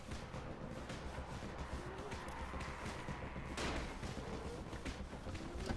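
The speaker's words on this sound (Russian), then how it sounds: "Заманим их сюда взрыв пакетом," In the zombie game Dying Light, a thrown firecracker pops and crackles in a rapid, faint string of small bangs amid busy background game noise, with one sharper burst midway.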